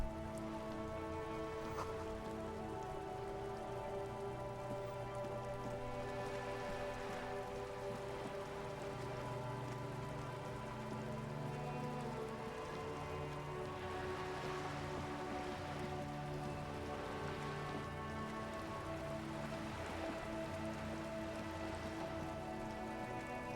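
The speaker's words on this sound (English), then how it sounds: "All around you, rain falls on the great city of Revachol. Rain drips from the eaves and floods the gutters, washing the filth away." Steady rain falling over the city of Revachol in the video game Disco Elysium, a constant soft hiss of drops and dripping over low, quiet tones, with no talk.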